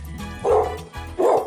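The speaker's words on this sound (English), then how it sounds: "That's my dog, just, you know, being the protector that he is." A dog barks twice in a home kitchen, two loud, close woofs about three-quarters of a second apart over a low background hum.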